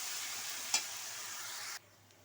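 Ground ginger, garlic and chili paste hisses in a hot pan, a steady close sizzle with one sharp clink near the middle before the sound cuts off abruptly.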